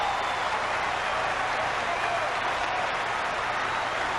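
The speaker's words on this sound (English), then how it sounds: "this crowd is going crazy" Dense, roaring applause from a large arena crowd at the 1984 Olympic men's volleyball final between the USA and Brazil, sustained and loud with a faint commentator voice beneath.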